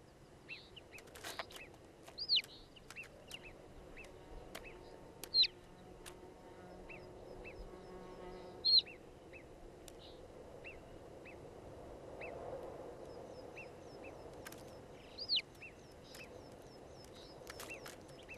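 Sparse, faint high calls from a ptarmigan hen and chick ring out now and then over a quiet outdoor background, a few sharper chirps standing out.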